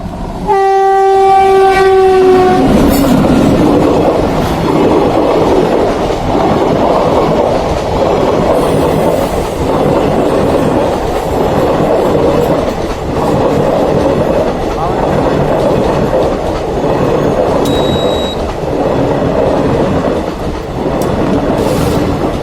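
A train running past a railway level crossing in Gujarat, opening with a loud horn blast, then close, heavy rumbling of wagons and rhythmic wheel clatter continuing steadily, a brief whistle-like tone near the end.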